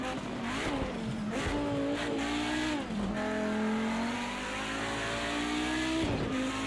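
Audi Group B Quattro race car in Project CARS 2, its engine loud and steady with gear shifts and brief revs dipping and climbing, tires squealing now and then, no voices.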